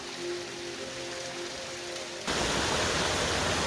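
A wide creek rushes over three separate waterfalls at Caboolture River Falls in Queensland, a steady broadband roar that surges louder partway through, with no voices.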